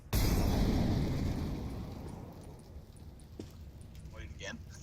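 A molotov bursts into flame in a competitive shooter with a sudden loud whoosh that fades into a crackling burn, while players call out over team voice chat.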